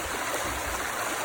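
The Mississippi River rushes shallow and fast just below its headwaters, heard from a bridge as a steady, close, broadband wash of flowing water with no talk.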